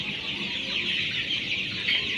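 A flock of three-week-old colour bird chickens clucks and murmurs continuously at close range in a poultry shed, a steady busy chatter with no talking.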